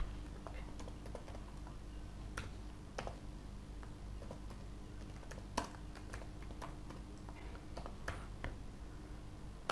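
Someone types Python code on a computer keyboard, producing soft, scattered key taps at irregular intervals over a low, steady room hum, fairly quiet and close.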